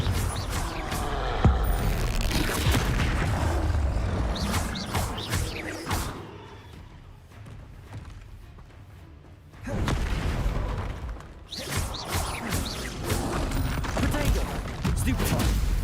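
Confringo blasting spells explode in the Hogwarts Legacy video game as repeated booming blasts amid dense combat noise, loud and continuous except for a brief quieter lull midway.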